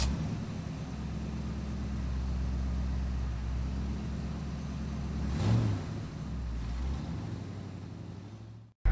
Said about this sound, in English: Here we have Ronnie Nesbitt's 1964 Mini Cooper S